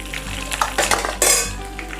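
Mustard seeds, curry leaves, fenugreek and cumin crackling in hot oil in a pan for a quick sambar, with a sizzle running throughout, close and fairly loud, overlaid by metallic clinks and scrapes of a spoon against the vessel; no one talks.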